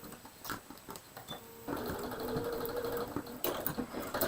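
A sewing machine stitches a quilt block, starting after a few soft handling taps and then running in a steady close whirring burst for about two seconds before stopping, followed by light clicks and fabric rustling.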